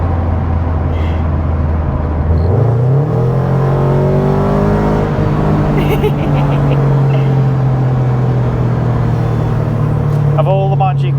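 A Toyota GT86 with a Milltek exhaust idling and then revving. The engine note rises in a sweep and holds at a higher drone, close and loud, with people talking over it.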